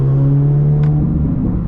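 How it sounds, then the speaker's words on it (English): Chevrolet Corvette C8 Z06 engine with a steady, loud idle drone and a slight flutter, close up and without talk. "I'm gonna rev it for you guys. I want you guys to hear this."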